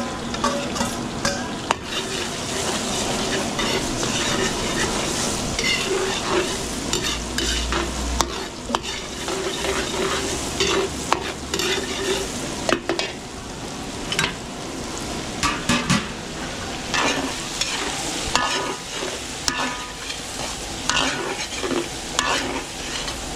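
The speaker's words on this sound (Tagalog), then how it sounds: "pagpupulayin muna natin itong bawang. Tapos susunod na natin itong Chili." Garlic and chili sauté in a pan for a catering spread, a loud continuous sizzle and frying crackle with scraping stirs of a utensil throughout, close and unbroken, with no talk.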